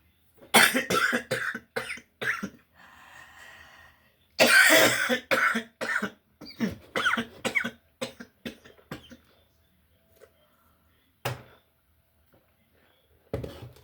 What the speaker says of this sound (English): I have COPD and I cough a lot.